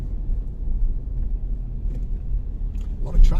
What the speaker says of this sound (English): A lot of traffic about.